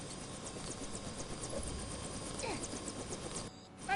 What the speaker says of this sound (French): Il y a un autre hélico qui arrive!